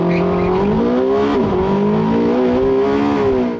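A Porsche 918 Spyder hybrid accelerates at full power with a loud, close engine note rising steadily in pitch, briefly dipping at a shift before climbing again, with no talking over it.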